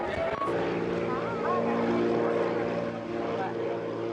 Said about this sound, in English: A specially chartered plane flies in the forgotten cake